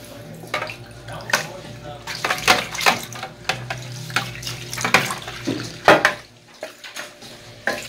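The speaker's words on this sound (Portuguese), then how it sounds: "joga a sua água" Water poured and splashed over a motorcycle helmet visor during hand cleaning, irregular bursts of splashing and trickling with soft drips and brief handling noises, close by and moderately loud.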